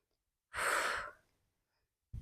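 A single forceful exhale during an ab workout, close and breathy, lasting about half a second, followed by silence and the start of another breath at the end.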